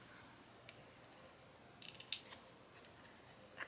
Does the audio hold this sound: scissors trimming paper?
yes